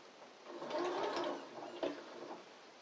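A sewing machine stitches a gathered hat crown onto its brim in a brief, close, steady run of stitching with a slight swell in the middle.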